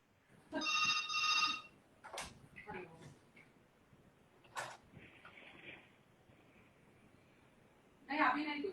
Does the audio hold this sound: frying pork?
no